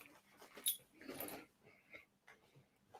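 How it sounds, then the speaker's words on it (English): A dog gives a few faint, short whimpers and snuffling breaths nearby in a quiet room, soft and broken up over a few seconds, with no talking. "I told you this dog will cause mayhem as soon as they come in"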